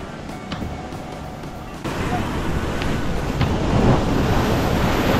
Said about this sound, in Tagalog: Sa tindi ng lakas ng alon,